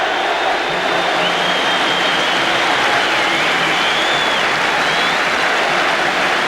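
Stamford Bridge crowd welcoming the Chelsea team onto the pitch, a loud, continuous roar and applause from the stands with whistles rising above the broad noise throughout.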